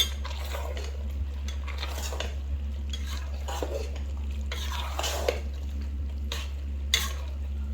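A spoon stirs cheeseburger macaroni in a pot on the stove, giving soft scrapes and clinks of metal against the pan in an irregular rhythm over a steady low hum, close by, no talk.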